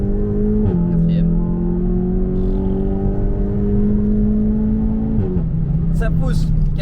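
A Stage 2 VW Golf GTI TCR engine of about 360 hp pulls hard in fourth gear, its steady rising drone loud and close from inside the car, dropping briefly at a shift, with faint speech over it near the end.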